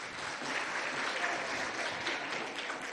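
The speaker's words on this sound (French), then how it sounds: "Applaudissez aussi très fort pour vos maîtres et maîtresses." Schoolchildren at an IPEP Moundou school event applaud their teachers with continuous crowd clapping, a thick, steady patter of many hands that holds evenly throughout, somewhat distant and without voices on top.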